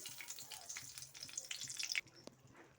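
Butter and white oil sizzling in a hot kadai, a steady bright crackle with scattered pops that cuts off near the end, leaving a faint hiss and a single clink.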